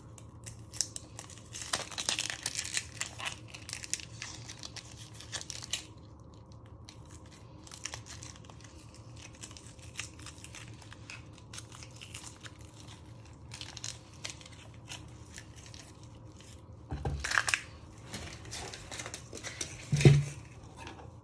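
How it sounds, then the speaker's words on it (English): Close, quiet crinkly tearing as layers of skin are peeled off a vegetable in a home kitchen for carbonara, in scattered bursts over a low hum with two sharper knocks near the end. "Peel 2 layers of the skin."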